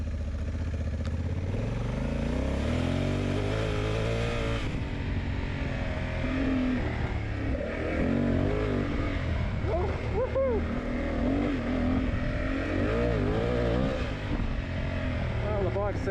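A Honda Africa Twin DCT motorcycle rides off-road downhill, its engine rising and falling through revs with clattering over rough ground. A rider talks over it throughout.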